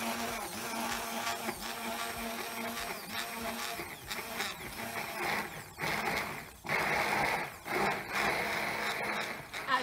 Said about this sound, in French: Et là, on mixe.